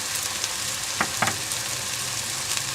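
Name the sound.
ginger garlic paste and spices frying in a pan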